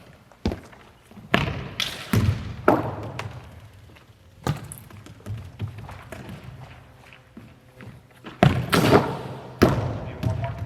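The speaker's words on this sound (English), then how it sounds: "Now watch the difference here as I strike the ball." Soccer ball struck by foot during indoor shooting practice, a few sharp thumps among running footsteps and scuffing in a reverberant room, with some background voices.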